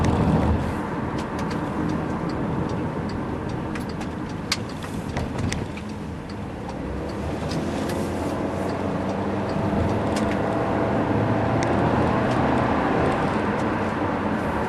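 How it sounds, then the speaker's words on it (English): A 2011 Volkswagen Tiguan 2.0T SE 4Motion heard from inside while driving, with steady road and engine rumble and faint light rattles from CDs stored in a door pocket. "it's these CDs over here in the door, which I tell him not to put them here because they rattle, but they still do."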